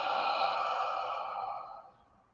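A long, soft breath is let out steadily through the mouth and fades away over about two seconds, close and quiet, during a guided breathing meditation.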